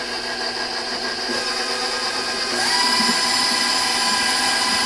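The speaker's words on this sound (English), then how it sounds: "A stand mixer is the only way to go." A stand mixer beats cream cheese batter for a gooey butter cake with a constant motor whine and hum, close and steady, rising slightly in pitch and loudness midway as the speed increases.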